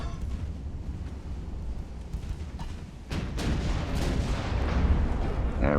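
Battleship 10-inch guns fire in a naval warfare game, a run of deep booming rumbles with a sharp, louder blast midway and continuing heavy thuds under a faint voice.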